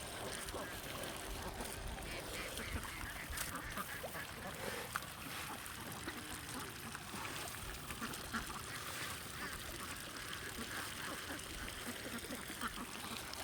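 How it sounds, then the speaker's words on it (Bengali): Ducks gathered on a riverbank, likely the Atrai River, as they are fed handfuls of paddy, their quacking mixed into continuous outdoor noise with voices present throughout. "সব হাঁস একটা জড়ো হয়ে গেছে, খাবার খাচ্ছে একত্র হয়ে।"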